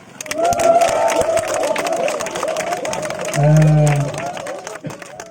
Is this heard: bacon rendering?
no